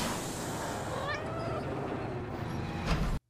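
A loth-cat from the Star Wars series Ahsoka meows in a rising, drawn-out cry over a steady background rumble, followed by a shorter call before the sound cuts off.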